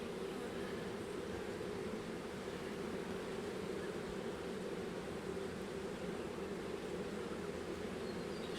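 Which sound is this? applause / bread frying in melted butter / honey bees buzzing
honey bees buzzing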